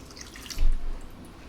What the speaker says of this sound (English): I'm just going to add 125 mils of water